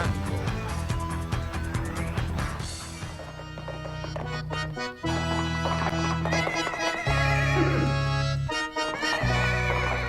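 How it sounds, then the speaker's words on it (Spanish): A horse neighs amid loud, dense music, with clip-clop hoofbeat sounds and a continuous busy mix throughout. "Relinchó el palomo, regresó Simón"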